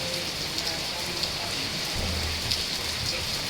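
Heavy rain pours down in a dense, steady hiss, drumming on surfaces close by, with a faint low rumble partway through and a voice barely audible beneath.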